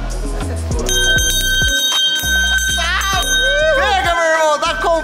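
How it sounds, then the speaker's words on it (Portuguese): A bright bell rings repeatedly in quick strikes, loud and close, over music with people speaking and shouting. "Posso tocar o sino agora?"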